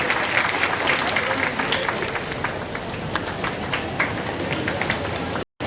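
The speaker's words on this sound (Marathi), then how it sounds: "सर्वांनी टाळ्या वाजवायच्या आहेत." A crowd claps at a felicitation ceremony for Class 10 and 12 students, steady and moderately loud with faint voices underneath, cutting off abruptly near the end.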